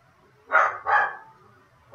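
A dog barks twice in close succession, two loud mid-range barks, followed by the start of a third bark at the end, near and clear over a quiet background.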